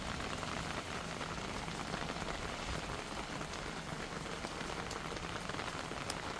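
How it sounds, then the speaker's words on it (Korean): Heavy rain falls on a rooftop terrace crowded with earthenware crocks, a dense, even hiss of drops drumming on surfaces, steady and unbroken, with no voices. "이렇게 비가 많이 오고 있습니다."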